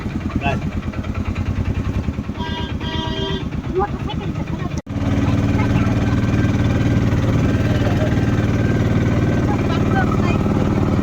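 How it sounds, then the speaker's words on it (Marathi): An auto rickshaw engine, a Gujarati-style model, drones steadily as it is heard from the back seat on the road near Somnath; the rumble breaks off abruptly midway, then resumes just as loudly, with a voice briefly over it. "रिक्षाचा लय आवाज आहे रे."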